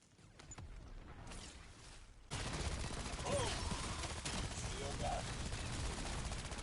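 Rapid weapon fire against zombies in Black Ops 7 Zombies, a dense continuous burst of gunfire that jumps louder after a quieter opening, with a voice talking over it.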